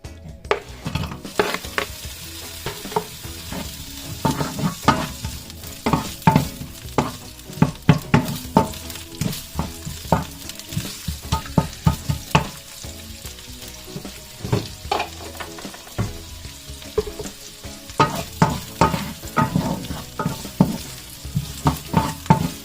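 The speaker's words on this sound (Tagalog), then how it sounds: "igigisa ko naman siya dito. Yan. Dadagdagan ko ng maraming sibuyas" Plenty of onions sauté in a pan with a constant sizzle, broken by repeated scraping stirs and clinks of the utensil, close and loud, with no voices.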